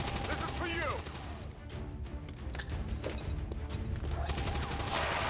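A grenade detonates in XCOM 2: Long War 2, a dense crashing burst of gunfire-like game explosion noise over a loud, busy battlefield mix.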